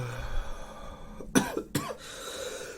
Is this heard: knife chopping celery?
no